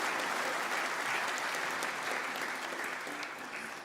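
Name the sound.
applause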